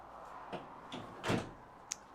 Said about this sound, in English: You have this little drawer thing you can pull away